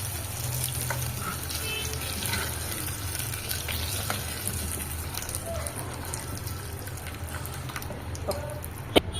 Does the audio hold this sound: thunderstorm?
no